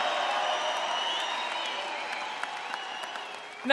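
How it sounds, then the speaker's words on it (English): Crowd applause and cheering at a Trump rally in Colorado Springs, a dense, steady roar of clapping from a large audience that swells louder at the very end. "Give them another round of applause."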